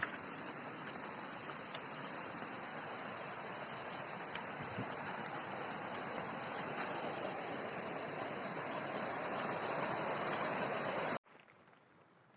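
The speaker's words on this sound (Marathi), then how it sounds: "मित्रांनो, आपण आता चौथ्या धबधब्याकडे आलेलो आहे." A village waterfall pours with a steady, even rush of falling water, a faint broad hiss that holds unchanged before cutting off abruptly near the end.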